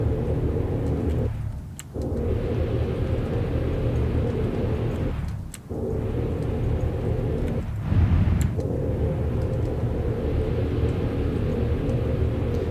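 Cutlass Black spaceship engines in Star Citizen, a heavy continuous low rumble and roar with a few brief dips and a swell toward the end, steady and close with no speech.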